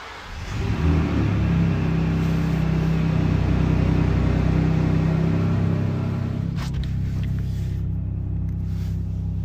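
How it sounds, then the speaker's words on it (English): A 2023 Ford Ranger Raptor 3.0-litre petrol engine roars to life in its cold start mode and holds a loud, high idle, steady rumbling throughout, easing slightly toward the end. "Once you turn on the engine, the vehicle features what Ford calls the Raptor cold start."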